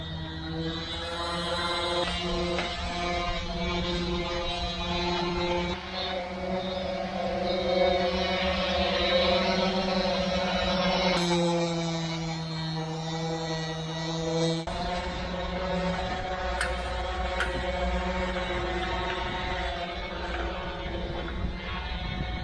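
Boat engine droning steadily beneath the hull, a loud continuous buzzing hum with layered harmonic tones that holds for the whole stretch with only slight shifts in pitch, and no talk over it.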